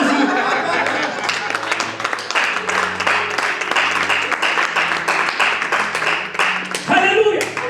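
A church congregation applauds continuously, dense steady clapping with cheering voices mixed in, loud and close throughout, swelling slightly near the end.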